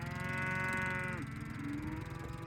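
Cattle on a grazing farm give a long, loud, close moo that slides down in pitch, followed by a shorter low lowing call, with no one talking.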